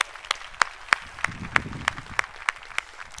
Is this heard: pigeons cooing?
no